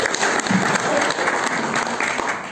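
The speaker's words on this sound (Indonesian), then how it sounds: "tepuk tangan dulu dong buat Bu Naneng ya" Audience applause for an honoree at a stand-up comedy show for retirees, a dense, steady clapping wash that holds loud from start to finish with no pauses.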